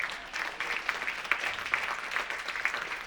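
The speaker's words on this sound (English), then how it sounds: "Give that a round of applause" A civil rights candidate forum audience gives a round of applause, a moderate, fairly distant patter of many hands with a few sharper claps standing out, steady throughout.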